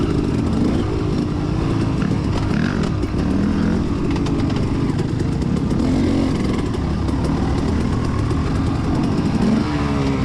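A dirt bike engine revs hard during a hill climb hare scramble, a loud, continuous, close buzzing roar with constant throttle that never drops away.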